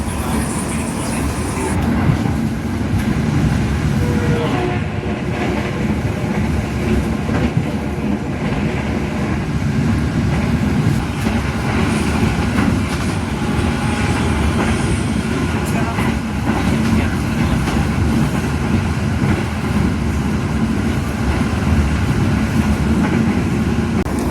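A train departing Jatibarang station rumbles steadily at close range, a continuous low roar of wheels and carriage noise with faint rattles, running unbroken throughout.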